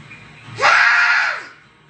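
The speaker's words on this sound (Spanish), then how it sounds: "Grito de vikingo. ¡Ah! hombre, ese no es grito de vikingo. Grita vikingo." A single loud screamed war cry meant to sound like a Viking, one sustained shout of about a second that rises and trails off, heard alone at close range.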